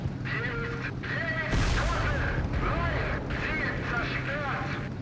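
A Tiger I tank cannon fires at a Panther during a Kursk battle in a tank game, a single loud blast followed by rumbling combat noise while a radio voice speaks over it.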